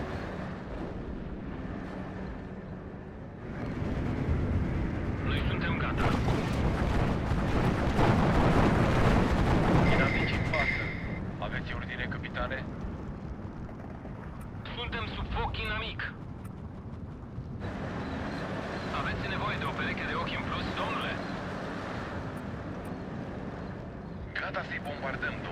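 Bombers and artillery in the Steel Division 2 battle game: a roaring rumble of aircraft and explosions swells in the middle and then eases, with someone talking over the battle noise at times.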